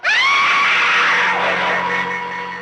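Woman's long, loud, high-pitched scream of fright from a 1970 Hindi film, one sustained shriek that fades slightly toward the end.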